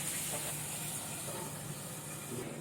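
Fish frying in oil in a covered pan, a continuous dense sizzling hiss that holds steady and close throughout with no talking.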